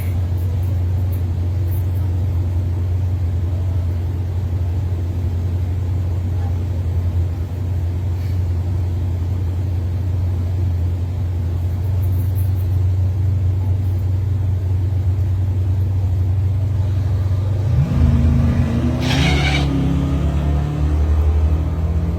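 Street race cars lining up for a grudge match at night, a loud continuous engine rumble holding steady before building into a harder acceleration near the end.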